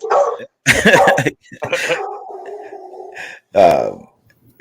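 An excited dog barks and yelps in several loud bursts close by, with a long drawn-out whine in between.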